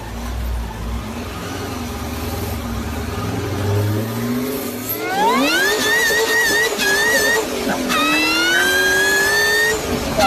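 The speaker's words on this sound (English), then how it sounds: "I went for a supercharged whine because I don't think you can beat a supercharger." A supercharged car engine revs hard, its high whine climbing and sweeping upward in pitch over a rough mechanical roar, loud and close with no talking.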